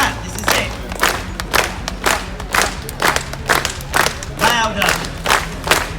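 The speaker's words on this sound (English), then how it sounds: "Everybody clap, this is it." A street crowd clapping in unison, loud rhythmic beats at roughly even intervals, about eleven claps, with shouts and voices between them outdoors.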